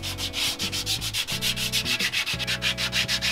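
Close, brisk sandpaper strokes scrub grease off drum brake shoes in a quick, regular back-and-forth rhythm, loud and continuous without any voices.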